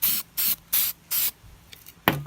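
Four short hissing bursts of spray enamel from an aerosol can onto a helmet, in an even rhythm, followed by a quieter pause and a final brief spray.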